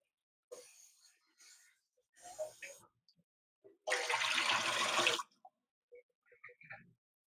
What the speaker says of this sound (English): See, guys, I wash because the sink is on that side.